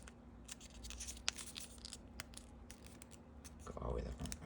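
Soft paper crinkling and folding as a sheet is creased in half for a craniogami elephant, faint close handling rustles over a low steady background hum.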